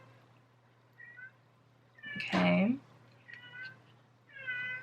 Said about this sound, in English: if you hear that, that's my cat